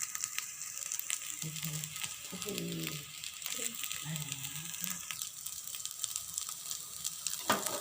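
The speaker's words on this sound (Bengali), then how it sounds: "আমি বাকি সবজিটা ঢেলে দিলাম" Vegetables tipped into a hot pan for a festival offering meal fry with a steady close sizzle, stirred and shifted in bursts, a brief clatter near the end, with no talk over it.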